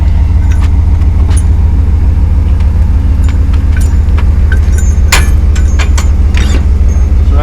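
A vehicle idles and creeps backward toward a Jeep to line up a Blue Ox tow bar hookup, with a steady low engine rumble throughout and a few faint metallic clinks and taps on top.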